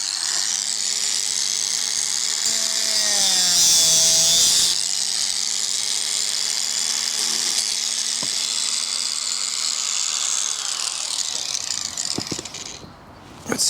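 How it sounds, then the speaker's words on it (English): A mini angle grinder cuts plastic garden railway track, its high-pitched whine loud and close, dipping in pitch as the disc bites and steadying for about ten seconds before spinning down. "Just going to use my mini angle grinder. Not really necessary on plastic"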